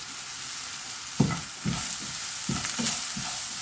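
Onions sizzle steadily in oil in a pan while several stirring scrapes and clatters come through in uneven bursts.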